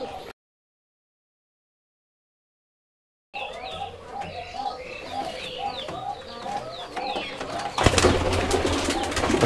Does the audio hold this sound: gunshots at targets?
no